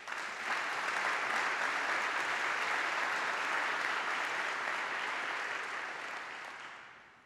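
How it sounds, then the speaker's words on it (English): An indoor audience at an evening history lecture breaks into a sustained round of applause, dense and steady clapping that fades away after about seven seconds. "I ask that you please join me in thanking all of them with a hearty round of applause."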